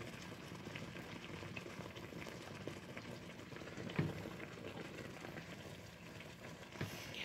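Black tea and chicken simmering low in a pan, a steady soft bubbling hiss that runs continuously with a faint pop near the middle and no talk over it.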